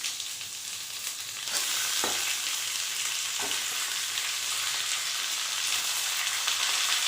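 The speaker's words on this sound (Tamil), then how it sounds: "வெங்காயம் இப்படி கொஞ்சம் பொன்னிறமாக வதங்கினதுக்குள்ளேயும் நம்ம க்ளீன் பண்ணி வச்ச சிக்கன் சேர்த்துக்கோங்க." Chicken frying with onions and green chillies in a pan for a home-style chicken gravy gives a steady, loud broadband sizzle that jumps up after the first second and holds throughout, with a couple of brief stirring clicks.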